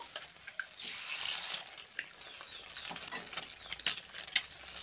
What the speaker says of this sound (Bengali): আমি 3টে ডিম দিলাম। ভালো করে মশলার সঙ্গে কষে নেব।